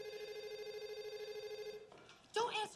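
A mobile phone rings with a steady electronic warbling tone, repeating evenly and fairly loud, then cuts off near the end as a voice starts speaking in a tense dramatic scene from a horror thriller.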